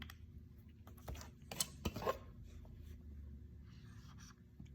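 A pen writes a time on paper during a third-grade math lesson, giving a few brief, soft scratching strokes near the middle of an otherwise quiet stretch.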